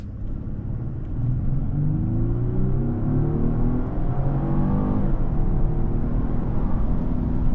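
A 2025 Genesis G90 luxury sedan accelerates away from a stop, its engine note rising steadily in pitch with a smooth, loud, close rumble and no talking.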